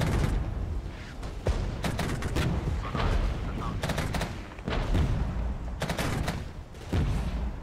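Gunfire on troops in the war game Regiments, with dense bursts of shots and rolling fusillades that come in irregular waves over a rumbling battlefield.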